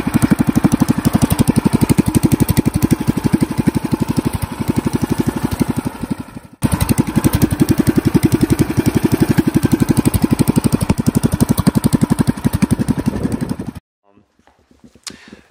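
A Predator 420cc single-cylinder engine runs steadily on a Honda Odyssey dyno, loud and close with a rapid, even firing pulse; it briefly cuts out midway, resumes, then drops away, leaving faint knocks and a brief voice.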